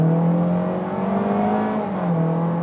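A Hyundai Creta Ultimate 2.0 or Toyota Corolla Cross XR 2.0 pulling away from a standstill, its engine droning steadily and loud from start to finish, the pitch climbing slowly and then dropping slightly near the end.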